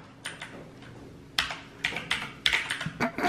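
Typing on an AlfaWise V2 mechanical keyboard, close and fairly quiet: scattered sharp clacky keystrokes, sparse at first then in quicker bursts, with no talk.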